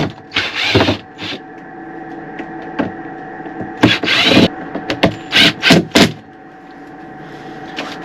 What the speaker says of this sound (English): So all I'm going to do is remove these screws